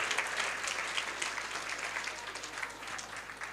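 Steady applause from an audience after a devotional song performance at a children's festival, a dense even wash of clapping lasting throughout at moderate distance.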